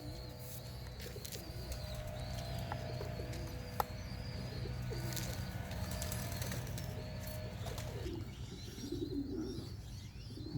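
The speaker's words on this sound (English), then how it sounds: "Birds are still out" Young pigeons cooing outside a loft on their first day out, soft repeated coos with occasional wing flaps under a steady low outdoor hum, moderately distant.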